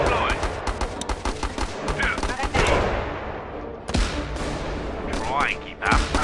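Machine gun nest firing in the strategy game Battle Islands: Commanders, dense bursts of rapid gunfire with booming impacts, fairly close, mixed with game voice lines.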